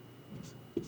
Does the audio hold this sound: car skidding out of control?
no